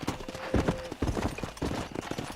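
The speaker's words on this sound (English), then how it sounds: "Control that horse, will ya?" Horse hooves in Red Dead Redemption, a rhythmic clip-clop of trotting hoofbeats close by with a brief whinny, and a voice speaking briefly over the riding.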